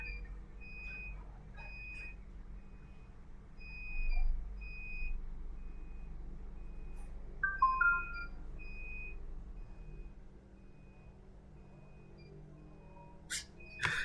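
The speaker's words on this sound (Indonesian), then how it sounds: "Nah, dia akan menyalakan buzzer" An electronic buzzer alarm on a sensor project beeps in short, repeated high tones, some paired and some spaced apart, over a steady low hum from a running fan.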